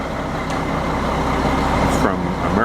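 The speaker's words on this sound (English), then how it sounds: "the cement truck is here" American Concrete cement truck pulling up at a footing pour, a heavy diesel engine rumbling steadily up close with a brief hiss near the end, loud and continuous.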